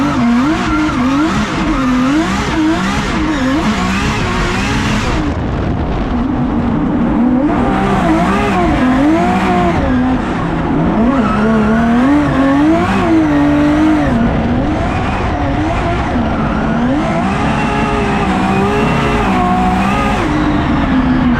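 A race car called Toretto laps a track held in third gear, its engine revving loud and close with rising and falling pitch sweeps, tires squealing through corners for a long continuous run.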